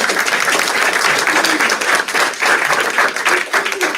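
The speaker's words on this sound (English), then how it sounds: "Let's give her a round of applause." Steady round of applause from a small audience at a county school district board meeting, dense overlapping claps continuing throughout with a few voices mixed in.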